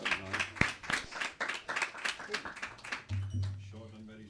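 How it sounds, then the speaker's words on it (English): A temple audience at a Bhagavad Gita gathering breaks into a brief round of clapping, dense rhythmic claps close by with murmuring voices mixed in. "Yeah, round of applause."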